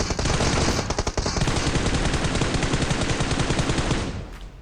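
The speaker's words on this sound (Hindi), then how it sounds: "एक दूसरा वो भी अंदर गोलियां मार रहा था" In PUBG Mobile, automatic gunfire rattles in a dense, rapid stream of shots that stays loud and steady for several seconds before thinning out at the end, with no talk over it.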